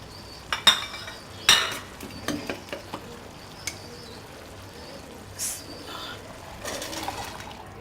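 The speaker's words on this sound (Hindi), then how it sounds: "अब इनको अच्छी तरह मिक्स कर लेंगे" Chickpeas being stirred into a pan with tomatoes, giving a few sharp scrapes and clinks of a spoon against the pan over a low sizzle, with quieter stirring noises after them.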